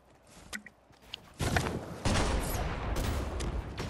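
In Fortnite, gunfire starts as scattered faint pops and then swells into a loud, dense barrage of overlapping shots that keeps going to the end.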